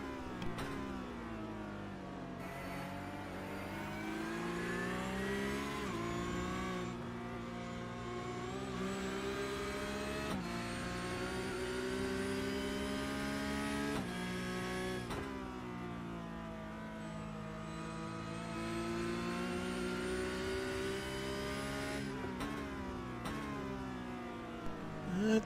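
A Porsche Cup race car engine in a sim racing game, heard onboard, revs high and drops repeatedly through gear changes and braking, a continuous loud drone rising and falling over about 25 seconds.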